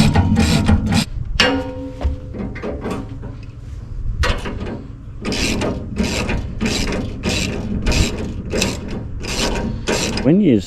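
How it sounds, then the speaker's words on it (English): A ratchet clicks in quick bursts while tightening nuts on a Kings tub roof rack, the rapid pawl clatter starting and stopping repeatedly, close by and loud, with no voices. "we'll grab a ratchet and a spanner and we'll go tighten up those two up there"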